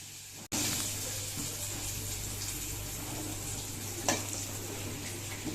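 Prawns fry in a small amount of oil in a pan, giving a loud, continuous close-up sizzle that starts abruptly and holds steady, with a few brief clinks from stirring.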